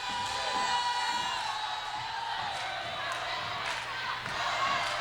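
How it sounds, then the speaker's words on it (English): Crowd noise at a high school basketball game, Kecoughtan Warriors versus Phoebus Phantoms, a steady roar of cheering and whoops from the stands with occasional sharp slaps, moderately faint and distant-sounding. "the crowd's getting into it now"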